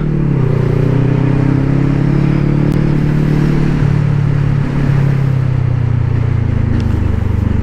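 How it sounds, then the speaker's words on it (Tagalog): A motorcycle with a 525 engine runs loud and close, its layered engine tones sliding up and down in pitch as the throttle varies, with a steady whirring drone throughout. "Ang smooth ng makina na ito talaga."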